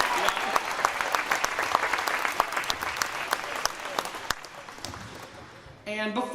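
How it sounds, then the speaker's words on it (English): An audience at a school band concert claps steadily for several seconds, a dense crackle that fades out before a voice begins speaking at the end. "Please applaud for Uche in our clarinet section."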